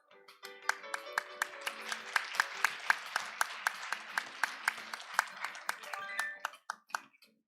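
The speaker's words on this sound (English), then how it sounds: "please welcome him with a round of applause" An international conference audience claps in a steady, even beat as the chairman, Dr. Chung Kwang-woo, is welcomed to the stage, sharp rhythmic claps ringing over tonal music that fades near the end.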